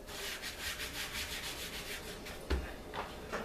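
Pastry being rubbed into a 9-inch pie pan makes a steady, soft rhythmic rubbing and brushing, close by, with a brief bump near the end.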